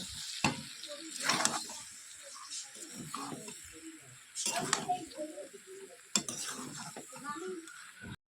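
Water is added to a sizzling curry in a pan, bringing several sharp hissing bursts with clattering spoon-and-pan stirring in between and quieter gaps between them.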